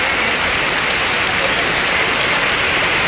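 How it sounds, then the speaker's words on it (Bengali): Heavy rain pours steadily outdoors, a dense, even hiss close by with no letup and no voices. "দেখেন কি পরিমাণ বৃষ্টি হচ্ছে এখানে"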